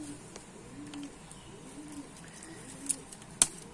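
A pigeon gives soft, low coos in a short rhythmic series, faint and close, with a couple of small sharp ticks near the end.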